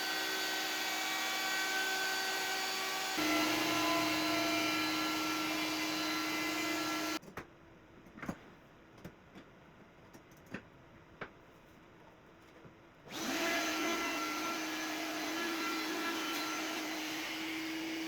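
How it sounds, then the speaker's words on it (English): Wooden shelf parts for a tall record album shelf being power-sanded up to 180 grit: two long stretches of steady, loud whirring grind, split by a quieter pause filled with scattered clicks and taps. "Now I can finish sanding all the parts up to 180 grit"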